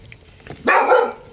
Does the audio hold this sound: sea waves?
no